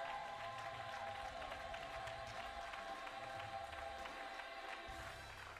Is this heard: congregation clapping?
yes